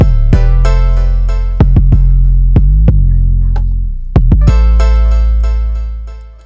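A deep 808 bass line in a Cali beat glides downward in pitch partway through before settling again, droning loud and close under snappy drum hits that continue across the whole pass, with no voices.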